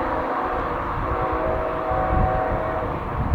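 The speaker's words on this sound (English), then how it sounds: "There's another train coming." A freight train rolls past close by in high wind, a steady loud rumble and rattle of cars running continuously with no talk over it.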